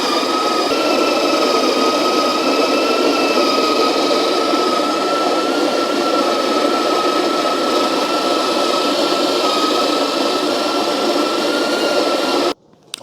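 A Breville Smart Grinder Pro grinds coffee beans on a coarse setting for a five-cup French press batch, giving a loud, continuous whirring motor drone that holds steady for about twelve seconds before stopping abruptly.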